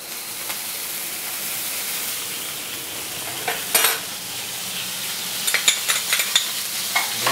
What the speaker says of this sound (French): on va faire revenir les échalotes dans un peu de beurre